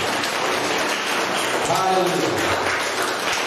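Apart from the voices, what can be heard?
congregation applauding in a church service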